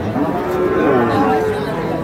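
Cattle moo close by at a busy livestock market in Bogura where farm-ready bulls are bought and sold, one drawn-out low call heard over a constant murmur of crowd chatter.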